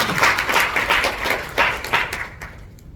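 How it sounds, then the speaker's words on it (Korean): Audience at an IoTcube security conference at Korea University applauding to welcome a speaker to the stage, a steady burst of many hands clapping that tapers off and ends after a couple of seconds. "여러분 따뜻한 박수로 환영해 주시기 바랍니다"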